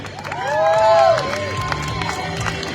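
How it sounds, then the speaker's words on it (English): An audience at a butcher wars competition responds to the naming sponsor with a swell of crowd noise and cheering, loudest in the first second and then settling into a steady murmur. "please give a round of applause to Victorinox, the naming sponsor of this event."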